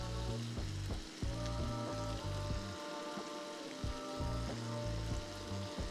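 Garlic sizzles in melted butter in a hot pan, a loud, close, steady frying crackle with rhythmic scraping and stirring thumps running underneath throughout.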